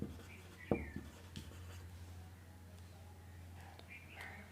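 A pen scratches briefly on paper in a quiet room. A few short strokes come early, followed by faint scratching under a steady low hum, with a soft voice nearby.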